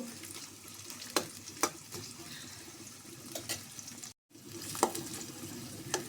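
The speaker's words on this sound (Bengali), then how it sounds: "পেঁয়াজটা একটু নরম করে বেজে নেব" Onion frying soft in a pan for a taki fish and new potato curry makes a steady low sizzle, punctuated by several sharp spatula clicks and scrapes, with a brief dropout near the end.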